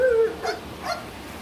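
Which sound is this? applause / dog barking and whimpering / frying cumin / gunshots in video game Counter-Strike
dog barking and whimpering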